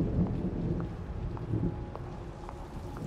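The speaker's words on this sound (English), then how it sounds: "It's raining outside." Steady rain with a low rumble of thunder underneath in a video game, faint droplet ticks scattered through a constant wash of noise.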